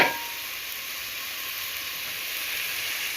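Chicken curry sautéing in a pan gives a steady, close sizzle and hiss with a brief louder burst at the start, then an even frying noise with no talking.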